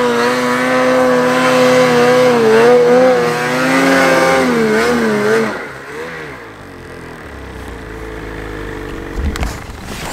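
Off-road vehicle engine revving hard up a small hill, a loud rising and falling roar for about five seconds before dropping to a quieter rumble with rustling and a short knock near the end.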